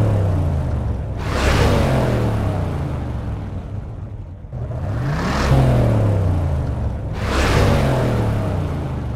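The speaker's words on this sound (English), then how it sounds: "Now let's hear the pipe organ together with the sports car." A Transformizer pipe-organ layer blended with a sports car sound gives three rising engine-like revs with whirring tonal sweeps over a low rumble, loud and close, with no talking.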